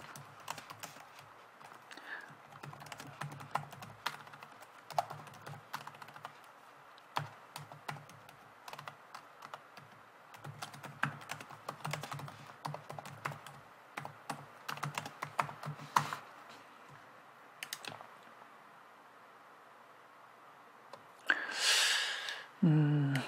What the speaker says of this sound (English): And type the query to test.